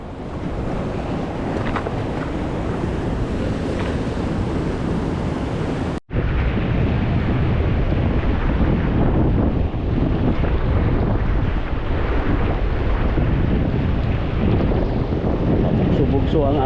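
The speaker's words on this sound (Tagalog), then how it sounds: "Bugso ang alon guys" Loud, continuous rush of ocean waves mixed with blustery wind buffeting the microphone, with a brief dropout partway through.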